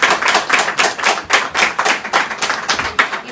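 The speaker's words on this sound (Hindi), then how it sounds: "बजा दो ताली" A group of people clap their hands together in a quick, even rhythm of sharp claps, loud and close, with no talk over them.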